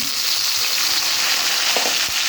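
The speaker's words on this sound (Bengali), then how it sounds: "বন্ধুরা আলুটা ভাজা হয়ে গেছে, আমি এর মধ্যে দিয়ে দেবো বেগুন" Pieces of brinjal land in a pan of fried potatoes for a pabda fish curry and sizzle loudly in the oil. A dense, even crackle is heard close up, with a couple of soft knocks near the end.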